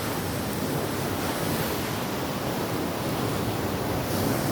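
Sea waves at Paradip beach in Odisha roar and wash continuously onto the shore in the morning, a loud, steady surf with wind noise and no voices.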